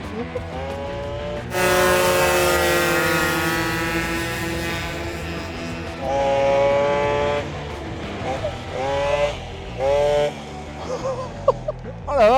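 Peugeot 103 mopeds race on a track with drum brakes fitted, their two-stroke engines holding a loud, steady high-pitched drone for long stretches, then revving in shorter bursts, while people talk excitedly over them.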